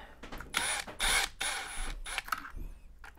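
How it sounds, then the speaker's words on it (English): Loosening a plate on an Elite Direto XR trainer with a wrench: several close, loud bursts of metallic scraping and clicking in quick succession, with short pauses between. "I'm gonna just try to loosen this plate here so I can get the wrench behind it."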